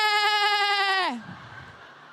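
A person's voice imitates a goat, giving one long, quavering bleat that wavers for about a second and then drops away into near silence.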